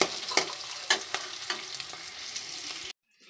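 Ginger and onion frying in oil for a tempering while cooking a Karavali-style fish curry, with a steady crackling sizzle and repeated stirring scrapes throughout, then cutting off abruptly into silence near the end.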